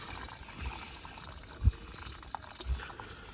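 Water poured from containers onto garden plants after a hurricane, heard as a few faint, brief splashes and trickles spaced out over quiet outdoor background.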